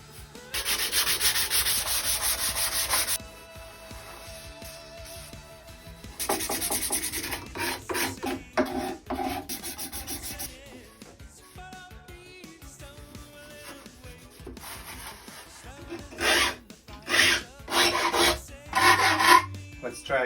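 A file rasps repeatedly across the teeth of a vintage backsaw, loud close bursts of scraping strokes separated by pauses, with quieter rubbing and short rhythmic strokes later.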